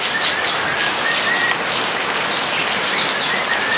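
Steady rain falls over a garden of carnivorous pitcher plants, a dense continuous hiss of drops on leaves and surfaces, with faint bird calls now and then.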